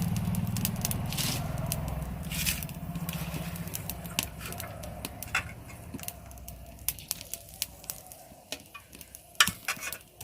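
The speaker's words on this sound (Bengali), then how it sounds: "দেখো লঙ্কাটা ভাজা হয়ে গেছে" Dried red chillies fry in hot oil in a pan, with a steady close sizzle under scraping and stirring clatter that thins toward the end into scattered sharp crackles and ticks.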